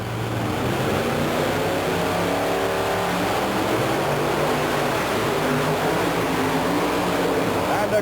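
The Gravedigger monster truck at a 1990 Memphis event, its engine roaring loud and continuous as it runs over cars, with an announcer talking over it throughout.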